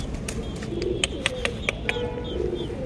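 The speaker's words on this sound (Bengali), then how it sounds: "এটা হচ্ছে কবুতরের খোপ, এর মধ্যে সব কবুতর থাকে।" Pigeons coo softly inside a backyard coop, low murmuring calls with several sharp clicks and taps scattered through.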